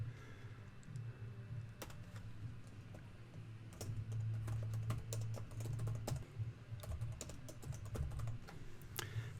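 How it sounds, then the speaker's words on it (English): Fingers typing text on a computer keyboard, a fast irregular run of light clicks with a few louder key strikes, heard close over a low steady room hum, with no voices. "I'm just going to go ahead and type that in there."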